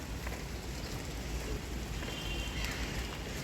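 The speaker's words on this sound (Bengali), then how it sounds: "এই যে টিপির টিপির বৃষ্টি পড়তেছে" Light rain patters steadily on a rooftop vegetable garden, a soft continuous hiss of drops without any voices.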